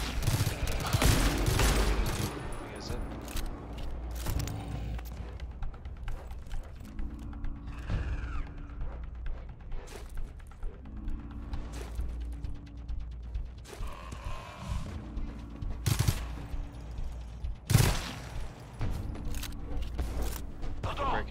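Sentry guns in GTFO firing on an enemy wave, rattling bursts and mechanical clatter recurring in clusters across the stretch, mid-distance, with players talking over the shooting.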